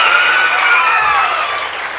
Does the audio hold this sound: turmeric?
no